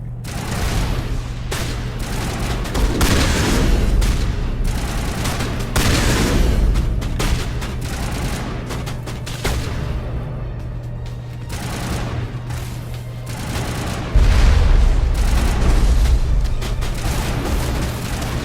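Sustained gunfire in the Mass Effect Legendary Edition video game, a shotgun unloading round after round in dense, loud bursts over a constant low hum and a booming game soundtrack.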